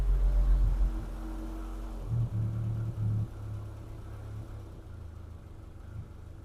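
An old car engine runs after being taken off choke, a loud low rumble that stumbles, picks up briefly, then settles into a steadier, quieter idle.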